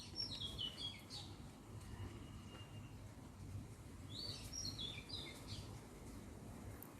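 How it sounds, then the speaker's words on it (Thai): Faint birds chirp in short bursts around an olive tree over a low, steady outdoor hum, with a few high tweets near the start and another cluster later. "ได้ยินเสียงนกด้วยนะคะ"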